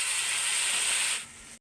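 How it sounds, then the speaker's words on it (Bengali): Vegetable curry of papaya, potato and pointed gourd frying in hot oil with onion and green chilli tempering, giving a steady, loud sizzling hiss that cuts out suddenly after about a second and a half. "পেঁয়াজ লঙ্কা ফোড়ন দিয়ে সবজিটা বসিয়ে দিলাম"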